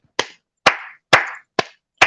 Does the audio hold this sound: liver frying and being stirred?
no